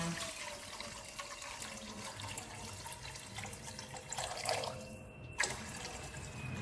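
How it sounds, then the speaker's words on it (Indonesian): Water is poured gradually into an Atomy Medicook wok over sizzling garlic while making soup, a steady running pour with a brief splash near the end, fairly quiet and without talk. "Kita boleh masukin air sedikit-sedikit ya, kita masukin."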